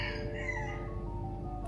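A rooster crows a long, drawn-out cock-a-doodle-doo at moderate distance, the call fading over more than a second against a steady low background hum.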